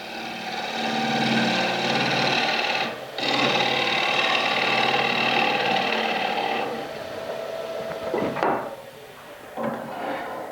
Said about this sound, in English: you could see that the shavings come off here as we are cutting